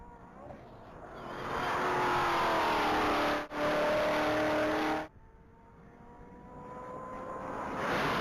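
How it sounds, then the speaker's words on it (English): A 2019 Chevrolet Corvette Z06 at full speed on a mile-long top-speed racing course approaches with a rising engine roar. It blasts past loud and close with a steady high whine, then fades and builds again. "that Corvette just went through the mile"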